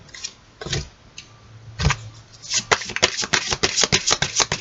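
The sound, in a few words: tarot cards being shuffled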